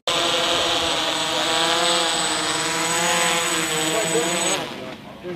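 A small unmanned military aircraft, a lightweight drone tested by Marines with futuristic combat robots, drones loudly and steadily up close with a high whining tone, fading slightly at the end while someone speaks briefly.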